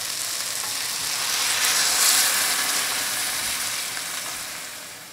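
Six cups of stock poured into a hot pan of cooked-down vegetables for jjamppong, a loud steady sizzle and hiss that swells in the middle and then settles, with no talking.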